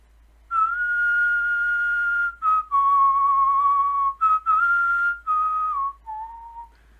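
A person whistles a tune alone, clear and close, in several sustained phrases broken by short pauses.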